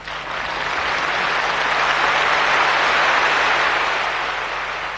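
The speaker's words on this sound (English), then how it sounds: "It was the longest, loudest applause of the day." Long, thunderous applause from a big audience in Yokohama as people living with HIV and AIDS stand to be recognized, a dense roar of clapping that swells in and holds steady at full loudness.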